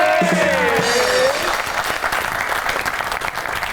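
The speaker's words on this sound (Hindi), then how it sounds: "आपकी बहुत सी तालियों में प्लीज वेलकम ज़ुनैरा" Audience applause swells to welcome the guest Zunaira onto a Pakistani comedy show stage, a steady dense clapping over a faint host voice and musical jingle at the start, continuing loud throughout.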